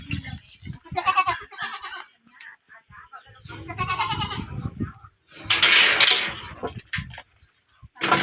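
Pet goats on a farm in Oriental Mindoro bleat in repeated wavering calls, some close and loud, others softer. A person speaks briefly between the calls.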